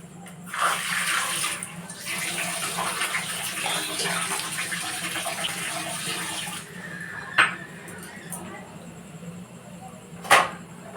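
Water from a bowl pours onto sugar in a pot for syrup, a steady splashing gush lasting about six seconds, followed by two sharp metallic clinks of the utensils.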